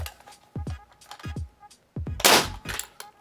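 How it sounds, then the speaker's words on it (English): A Nerf bolt-action sniper fires several sharp pops, each followed by a rattle of the bolt being cycled and shells ejecting. The shots are close and punchy, and a louder clattering burst comes near the end. "There are shells going everywhere"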